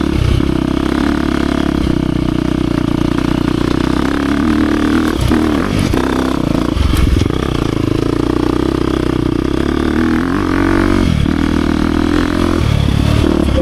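A 2023 KTM 350 XC-F Factory Edition dirt bike with new front sprocket and chain, its single-cylinder four-stroke engine droning loud and close while riding, with steady revs, brief throttle dips and scrapes and clatter from the trail.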